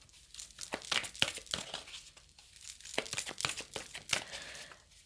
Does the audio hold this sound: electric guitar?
no